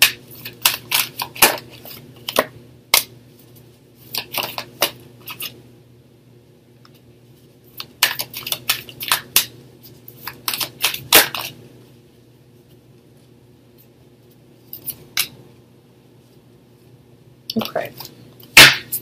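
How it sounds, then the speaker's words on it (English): Tarot cards being shuffled and drawn in bursts of sharp, crisp riffling and slapping snaps, close and intermittent, separated by quieter pauses. "okay, I'm going to pull out three cards for you guys."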